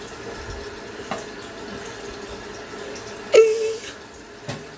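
Water from a tap runs steadily while freshly dyed Merino wool fibre is rinsed in a sink, with a few soft splashes and knocks over the flow.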